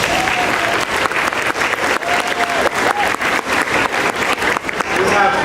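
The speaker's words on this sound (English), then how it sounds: "So we give them a round of applause, please." An audience claps for students and staff at a school community technology night, with dense, sustained applause filling the room and a voice speaking over it.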